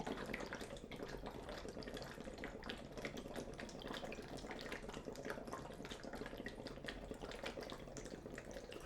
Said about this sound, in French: faites des bulles pas trop grosses mais régulières